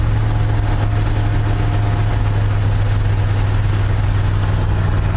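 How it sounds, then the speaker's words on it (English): An old dump truck's engine idles at lowered RPMs, a loud, steady low rumble with a constant hum that holds unchanged throughout, with no voices. "Let's see if I can pull the RPMs down a little bit."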